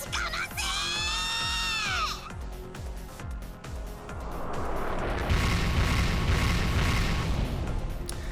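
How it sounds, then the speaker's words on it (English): Warship cannons in an Umineko game scene fire together in a scattered volley, a deep rumbling barrage swelling into a long, loud roar, preceded by rhythmic pounding and rising whistling tones. "then they all fired at once in a scattered mass of cannonballs"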